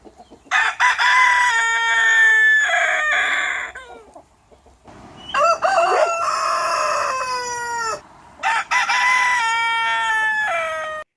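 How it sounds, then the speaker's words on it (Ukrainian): A rooster crows loudly three times, each long strained call separated by short pauses, close and clear with no talking. "Давайте пригадаємо, як кричить півник."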